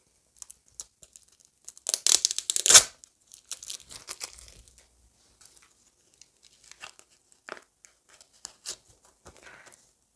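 A close, crisp crinkling and ripping of a thin paper packet, loudest in one burst early on, followed by scattered softer rustles and small crackles.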